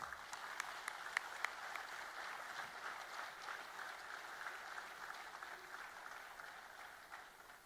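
An audience at a coding award ceremony applauds to welcome the CEO, sustained clapping from a sizeable crowd, fairly distant and even throughout.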